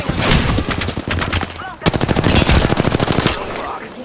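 Rapid automatic gunfire in a shooter video game, sustained bursts of loud, dense shots with a brief pause in the middle before another long stream, trailing off at the end.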